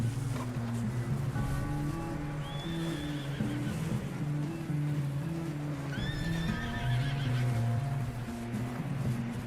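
Horse whinnies and clip-clopping hooves in the Red Dead Redemption video game, two rising neighs standing out over steady hoofbeats and a low rumbling game ambience, with no talking.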